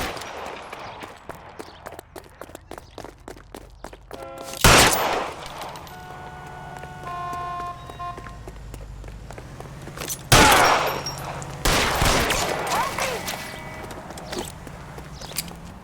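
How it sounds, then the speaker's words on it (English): Gunfire in the L.A. Noire video game comes as a few loud, separate shots spaced several seconds apart, over lighter pattering steps and background game ambience. "Sabo, stop or I will shoot!"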